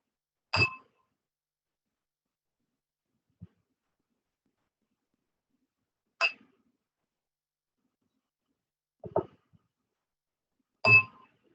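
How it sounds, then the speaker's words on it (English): A meditation bell rings four separate times, each a clear bright strike that fades quickly, with long stretches of silence between the first two and the last strikes coming closer together. "And the bell."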